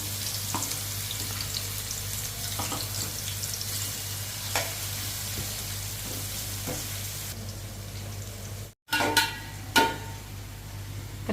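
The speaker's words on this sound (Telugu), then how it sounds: "అది మాడిపోకుండా వేయించుకోవాలి" Frying in oil in a pan for biryani, a steady close sizzle with a low hum beneath and a few soft clinks, a brief cut near the end, then more sizzling and scrapes; no speech.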